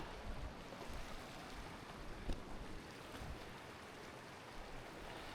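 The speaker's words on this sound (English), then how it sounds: "Creek crossing. That's way too deep right there with a ton of current." Strong current of a deep creek rushing along a canyon hiking trail, a dense steady wash of flowing water with faint wind buffeting, continuous and fairly close, no voices.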